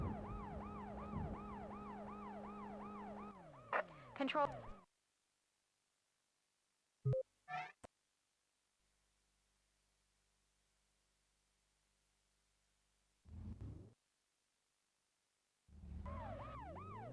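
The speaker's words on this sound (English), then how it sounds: "this mission you have to get an ambulance to a hospital" An ambulance siren in the video game Worlds Scariest Police Chases wails loudly with a rapid, repeating rise-and-fall pitch for about four seconds, then cuts out, returning in short bursts later amid silences.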